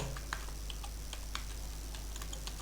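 Text is typed on a computer keyboard in a quiet room: faint, irregular key clicks and taps come in short bursts over a low steady hum, with no talking.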